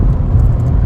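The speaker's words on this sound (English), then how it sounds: "Does it have a little exhaust blow? A mere hint of an exhaust blow" The cabin of a Ford Escort on the move, carrying a low rumbling engine and road drone with a slight exhaust blow, loud and steady with no voices.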